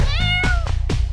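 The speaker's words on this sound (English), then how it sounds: "Oh, there you are, kitty. Hello, kitty." A pet cat meows three times in a row, loud and close, each call rising then falling, with a steady low hum underneath and no talking.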